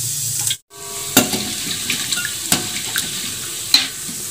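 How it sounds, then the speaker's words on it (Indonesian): Rangginang rice crackers made from leftover rice frying in hot oil: a steady bubbling sizzle with occasional sharp crackles and clinks of stirring, close by. "Udah, kita goreng segini dulu ya."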